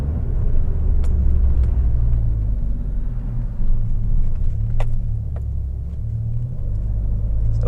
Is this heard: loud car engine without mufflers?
yes